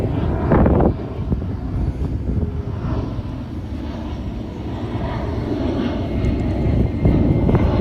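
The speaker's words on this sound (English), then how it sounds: "I'm gonna let this plane go by." A fixed-wing airplane passes overhead outdoors, its engine roar broad and steady for several seconds, swelling slightly at the start and end, with no speech over it.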